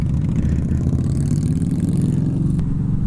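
A motorcycle engine, a Yamaha motard, runs steadily with a low throbbing idle and a mild rev rising and falling, close by and continuous with no speech.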